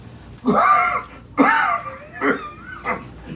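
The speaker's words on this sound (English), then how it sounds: "Suddenly he was seized with a violent fit of coughing." A person coughs hard in a series of harsh, rasping bursts, two long heaving coughs followed by shorter, weaker ones.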